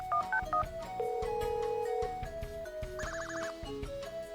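Video-game telephone being dialed to order pizza: a quick series of electronic keypad tones, followed by longer steady tones and a warbling ring signal, clean and close.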